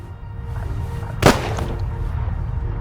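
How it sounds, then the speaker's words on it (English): A single sharp gunshot cracks out in the video game The Raven Remastered, one loud close burst standing above a steady low ambient rumble. "Gunshot! I know that!"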